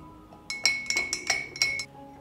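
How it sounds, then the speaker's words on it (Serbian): Rapid, bright clinks of a spoon against a glass bowl while stirring salt into whey, about seven quick taps in a row, close and clear with no talking. "Stavit ću 2 kašičice soli, pa ću to promešati."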